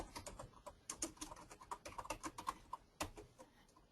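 Rapid keystrokes on a computer keyboard while entering assembly notes for 3D paper flower designs, a close, steady run of clicky taps with brief pauses and a louder key strike near the end, no talking.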